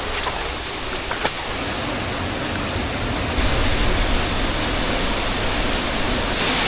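A hidden waterfall near Murbad roars as a steady, loud, broadband rush heard from right beneath the falls, growing even heavier partway through, with no voices.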